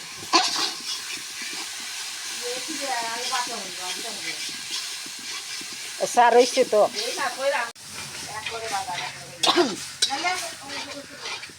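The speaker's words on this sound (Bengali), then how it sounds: "মশলা ভাজার জন্য একটু জল দিয়ে এখন মশলাগুলি ভালোভাবে ভাজা হচ্ছে" Spices fry in a pan with a little water added, hissing and sizzling under repeated spoon stirring and scraping, while a person talks intermittently over the cooking.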